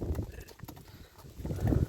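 A rider's mare clops along on hooves, uneven close strikes rising and falling in loudness as the horse approaches.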